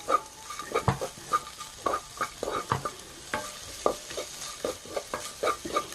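Walnuts being stir-fried in a pan, a rhythmic series of scraping, rattling stirs roughly twice a second over a soft background sizzle, fairly close.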